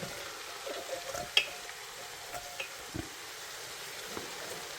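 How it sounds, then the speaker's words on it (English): Carrots and celery added to a pot of sautéed vegetables for corn chowder, a faint, low sizzle with a few soft clicks and scrapes of stirring, no voices. "we're all going to add the carrots and the celery too"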